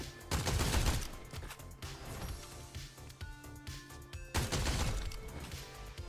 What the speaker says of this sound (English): What shotgun is this? We're gonna try this.